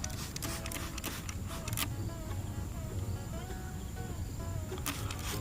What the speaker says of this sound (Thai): แมลงที่ได้กลิ่นมันก็จะหนีไปหมด